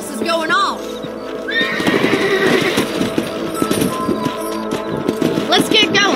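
A horse whinnies in the Red Dead Redemption video game, followed by a run of hooves clip-clopping over the ground, loud and close with layered game sounds and some talking.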